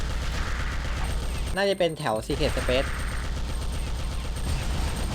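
Continuous rapid gunfire and explosions rattle throughout in the video game Alien Shooter 2 Reloaded, with a voice speaking briefly over it partway through.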